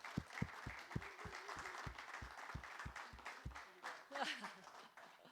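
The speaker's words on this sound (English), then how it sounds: "Round of applause for Alan." Audience at an outdoor community league plaza ribbon-cutting gives a round of applause for Alan: sparse, evenly spaced claps ring out near and clear, with talk murmuring underneath and a voice rising near the end.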